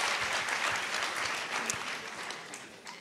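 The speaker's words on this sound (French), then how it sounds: "Ça mérite des applaudissements." A crowd claps steadily, a dense patter of applause that fades slightly toward the end.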